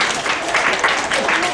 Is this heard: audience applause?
yes